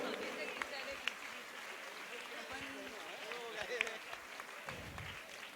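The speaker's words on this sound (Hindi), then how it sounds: "जोरदार तालियों की अनुमोदना।" A religious gathering marking Mahavir Nirvana festival applauds in a soft, continuous wash of clapping at some distance, with a few louder individual claps and faint voices underneath.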